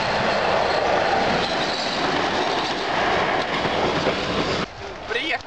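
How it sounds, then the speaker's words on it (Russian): A train runs along rails with a loud, steady rumble and wheel clatter close by. Voices call out under it, and the noise cuts off sharply near the end. "Паровоз едет быстрее!"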